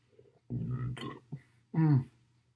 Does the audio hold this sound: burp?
yes